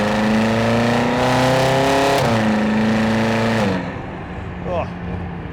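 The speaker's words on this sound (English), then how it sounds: "we will get to hear this wonderful, wonderful V8 with this particular exhaust system as well." A 2013 BMW M5 F10 with a 4.4-litre V8 and an aftermarket exhaust pulls hard, its loud engine note rising steadily through the revs, briefly dipping at a gear change, then easing off near the end.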